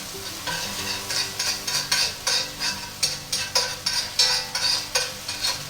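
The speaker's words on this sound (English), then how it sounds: "you want to stir this constantly for about 30 seconds" Minced ginger frying in a pan is stirred constantly, producing a loud close sizzle broken into rhythmic scraping strokes about twice a second.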